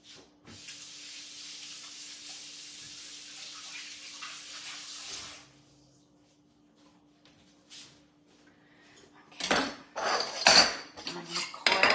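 A green apple is rinsed under a running kitchen tap, a steady soft stream of water for several seconds that stops, followed by sharp clattering and handling noises close by.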